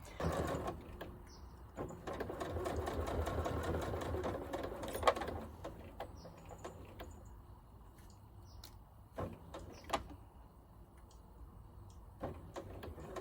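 A sewing machine stitches binding onto a quilt, running in a steady rapid whir for several seconds and then breaking into shorter bursts with pauses and small clicks, close and fairly quiet.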